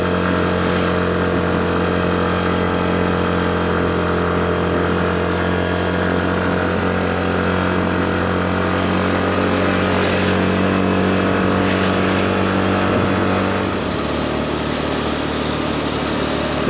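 A Yamaha Fazzio scooter engine hums steadily while riding, a smooth continuous drone with wind noise that shifts slightly in pitch near the end, loud and close throughout.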